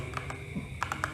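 Keystrokes on a Gamen Titan Elite mechanical gaming keyboard, a handful of separate clicks spread unevenly over a moment, with a faint steady background hum and no voices.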